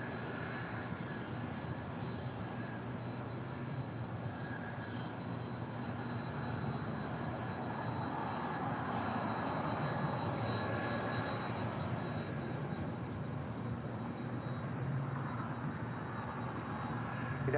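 A jet airliner taxis at Los Angeles International Airport with a steady, distant engine rumble and a thin whine held evenly throughout, low in level and unbroken, with no talk.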